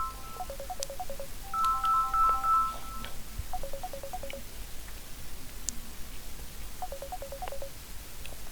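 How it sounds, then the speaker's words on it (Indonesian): A mobile phone ringtone plays in repeated bursts of short electronic melody notes, fairly faint over a steady background hiss, with no talking. "Wah, ada telepon"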